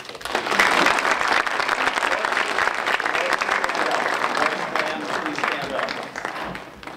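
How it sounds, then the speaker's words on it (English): A live audience applauds the Morris family at a community gathering, dense sustained clapping from many hands that stays loud for several seconds before easing slightly at the end. "a round of applause for this family"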